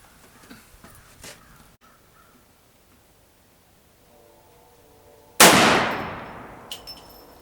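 A single loud, close gunshot from a .44 Magnum firearm, either a Ruger carbine or a Dan Wesson revolver, cracks sharply and then echoes away slowly. Quiet outdoor ambience and a few faint knocks come before the shot.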